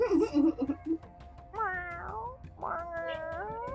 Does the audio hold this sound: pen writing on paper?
no